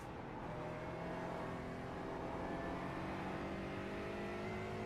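Aston Martin GT4 race car in the iRacing simulator at the Nürburgring Nordschleife 24-hour race: a steady, droning engine note holds at high revs, close and continuous with a whirring tone, and no talk.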